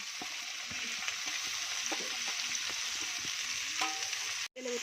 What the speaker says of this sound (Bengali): আমি হাই ফ্লেমে 1 মিনিট মতো ভেজে নিয়েছি